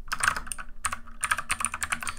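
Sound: typing on a computer keyboard during a typing test

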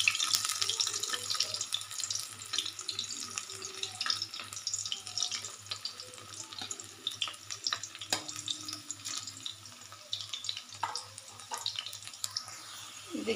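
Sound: cauliflower frying in oil

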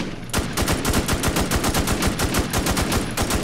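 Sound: nail gun firing in video game Infestation Survivor Stories

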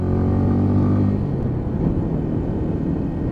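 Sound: Lexmoto Ranger motorcycle riding

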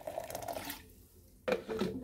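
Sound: cold water poured into blended mint paste

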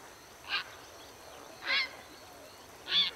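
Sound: birds calling at a waterhole

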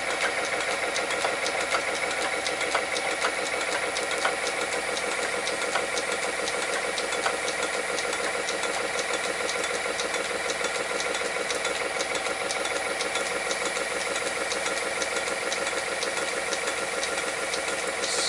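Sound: lathe steady rest rollers riding over a rough weld

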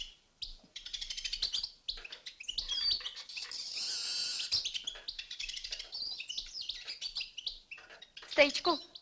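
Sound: birds chirping

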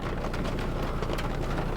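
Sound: heavy rain falling

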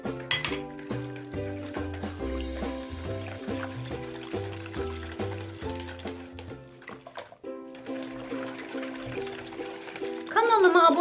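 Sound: mixing pastry dough ingredients and oil in a bowl

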